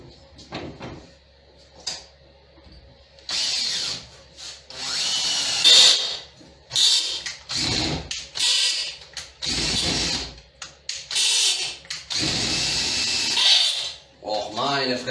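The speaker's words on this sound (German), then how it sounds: "Für diese Blechbohrerei bräuchte ich doch mal irgendwann so einen Bohrer, der oben noch sechskantig ist" Power drill boring through sheet metal for large fittings, in repeated bursts of loud whining drilling separated by short pauses and clunks, close to the microphone.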